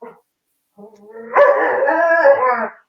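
A dog gives a short yip, then lets out a sustained howl that lasts more than a second, close and clear against otherwise quiet surroundings.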